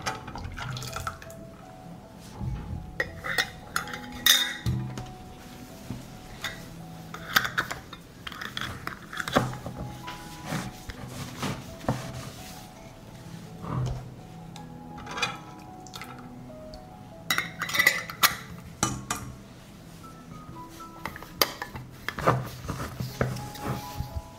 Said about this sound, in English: I close the jars with hot and sterilized lids